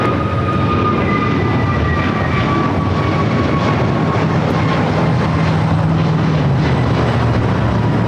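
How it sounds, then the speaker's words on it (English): A jet airliner bound for Reagan National takes off at LAX, its broad engine roar steady and loud throughout, with a rising whine and a low rumble shifting as it climbs. "The flight taking off is heading to Reagan National"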